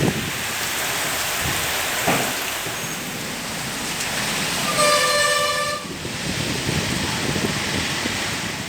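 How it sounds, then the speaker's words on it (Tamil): Heavy storm rain around Kanchipuram in Tamil Nadu, a loud steady hiss pouring down without pause, with a short horn-like tone sounding briefly near the middle. "சூறைக்காற்று, இடி, மின்னலுடன் பலத்த மழை பெய்தது."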